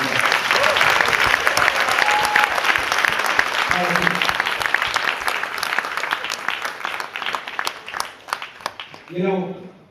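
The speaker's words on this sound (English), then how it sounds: "Please give your applause right there." Loud, sustained audience applause at an awards night, dense clapping that gradually thins and fades toward the end, with a voice briefly speaking near the close.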